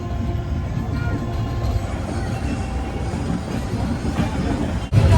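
Kolkata–Agra Cantt Express leaving Gaya Junction, heard from inside the coach: a steady, loud low rumble of wheels and carriage noise runs throughout, with a brief dip and a heavier clunk near the end.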